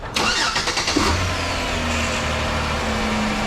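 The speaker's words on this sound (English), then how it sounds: "Starting the engine" A GM 3.5L V6 needing repair cranks with a rapid whirring starter, catches, and settles into a steady, close idle hum that continues to the end.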